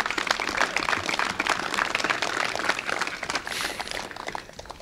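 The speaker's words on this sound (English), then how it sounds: "Ladies and gentlemen, let's give them a round of applause" A crowd applauds at a rugby sevens festival, dense continuous clapping that stays fairly even and loud, thinning slightly at the very end.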